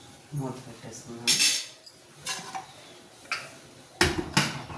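A metal lid is set onto a cooking pot of goat head curry, several sharp close clanks and clinks scattered over a few seconds, with a voice talking softly at the start.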